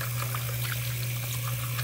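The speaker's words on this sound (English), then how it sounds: "put some water in there" Water runs steadily from a tap onto a fluffy makeup brush being cleaned at a sink, a soft continuous trickle over a low steady hum, close and alone.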